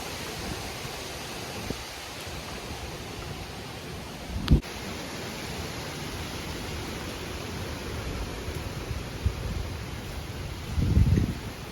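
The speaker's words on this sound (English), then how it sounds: "We get like gusts every now and then." Steady, rushing wind from Hurricane Ian roars across the whole stretch, swelling into a stronger gust near the end, with a sharp knock partway through.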